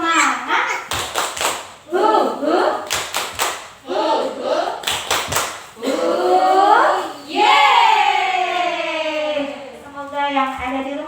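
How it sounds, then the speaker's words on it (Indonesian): A group of children doing the rhythmic Indonesian spirit clap, bursts of sharp claps in patterned groups alternating with loud shouted chanting from the kids. "mari bersama-sama kita teriakkan tepuk semangat dulu ya, bersama-sama"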